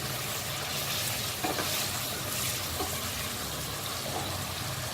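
Mutton being fried for nihari, a loud, dense, continuous sizzle filling the whole clip, steady and close with little variation.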